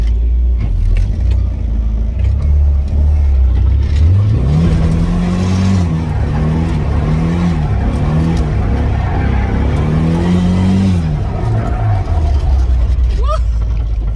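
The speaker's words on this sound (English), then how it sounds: "low power first gear burnout" Nissan S13 doing a low-power first-gear burnout, its engine revving hard and wavering in pitch through several rising and falling surges, loud and close, with tire and mechanical noise beneath.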